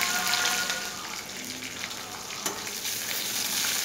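Chutney ingredients including ginger, garlic, curry leaves and tamarind frying in hot oil, giving a loud, continuous close sizzle with faint stirring throughout.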